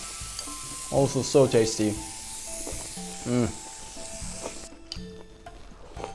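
Pork meat sizzling on a yakiniku grill, a soft steady hiss beneath a person speaking and a few short voiced remarks.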